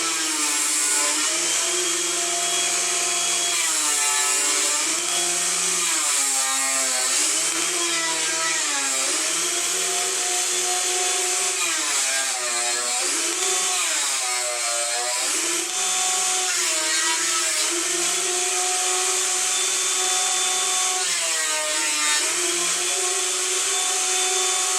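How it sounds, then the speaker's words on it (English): A thickness planer pushes twisted cherry and maple boards through on a planer sled, giving a loud, steady mechanical whine whose pitch sags and recovers repeatedly as the cutterhead bites and releases. "We'll probably have to run this through on the planer sled to get a flat surface on it."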